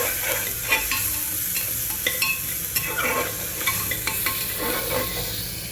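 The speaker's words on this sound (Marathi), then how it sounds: "हिरवी मिरची, कोथिंबीर, लसूण, आलं याचं वाटण आपण आता घातलेलं आहे याच्यामध्ये आणि छान भाजून घेणार आहोत।" A paste of green chili, coriander, garlic and ginger fries with onion for kala mutton, a steady close sizzle broken by repeated scraping stirs and light clinks of a utensil against the pan.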